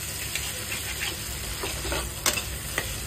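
Mutton fat and boiled chickpeas fry in a pan with a steady close sizzle, broken by a few scraping stirs and light clicks of a utensil.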